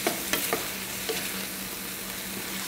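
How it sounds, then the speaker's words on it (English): Shrimp scampi for a zoodle dish sizzles steadily in a frying pan while a utensil scrapes through it in a few quick stirring strokes near the start, with no voices. "I'm just going to do a quick stir of all the flavors."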